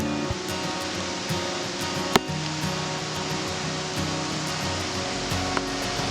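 Heavy evening rain on a village road in Konkan, with water running across the tarmac: a dense, steady roar of rainfall and flowing water, loud and continuous, with a single sharp knock partway through.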